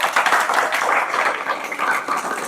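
A classroom of coaching-centre students applauding weekly test toppers, steady dense clapping throughout, fairly close and lively with slight surges, with no talk over it.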